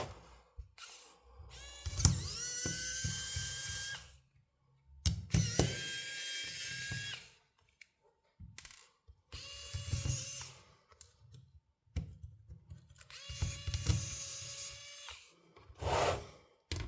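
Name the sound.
screws being removed from HP EliteBook 840 G4 laptop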